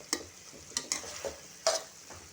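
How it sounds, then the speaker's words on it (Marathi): Jackfruit bhaji sautéing in coconut oil, with a few sharp spoon scrapes and stirring clicks over a faint, steady sizzle, close by and fairly quiet. "थोडंसं खोबरेल तेल टाकते, 1 मिनिट परतून घेते"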